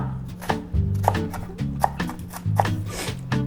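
An onion is roughly chopped with a knife on a board, producing a series of crisp, close cuts at an uneven rhythm over a low background hum.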